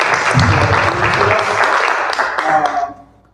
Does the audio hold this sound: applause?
yes